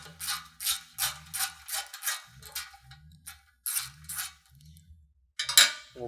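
Bolts threaded by hand into the rear bumper mount of a second-generation Toyota Tacoma during a CBI Bushmaster 2.0 bumper install: close, crisp metallic clicks and scrapes in short uneven bursts, with brief pauses and a sharper clink near the end.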